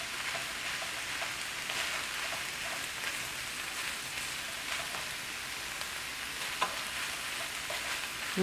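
Beef burger filling with ketchup, barbecue sauce and melting cheddar stirred in a pan over medium heat, a faint continuous sizzle with soft scraping and occasional spoon taps, close and quiet.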